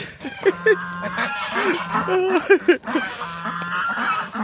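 Geese honk repeatedly and loudly nearby outdoors in icy winter conditions, overlapping calls in an irregular rhythm over a steady background din.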